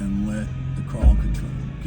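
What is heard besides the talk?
No distinct noise like a dog, phone or traffic.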